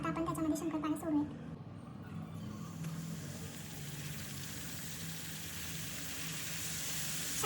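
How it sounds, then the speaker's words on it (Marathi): Shankarpali dough pieces frying in hot oil make a steady, soft sizzle that settles in after a few bumps and runs evenly, faint and close, with a person talking at the start. "तेल तापत ठेवलेलं आहे. आता आपण त्याच्यामध्ये शंकरपाळ्या सोडूयात."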